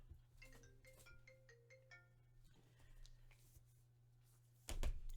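A phone ringtone from an incoming scam call plays a short melodic tune of rising and falling tones, faint and set against a steady low hum indoors, ending with a thump.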